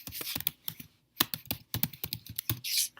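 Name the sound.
typing code on a computer keyboard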